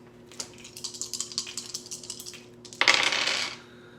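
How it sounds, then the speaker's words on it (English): Three dice rolled during a Jaws board game, a loose clattering patter of rattles followed by a louder burst as they tumble across the surface, close and clear with no talk. "I get to roll 3 dice."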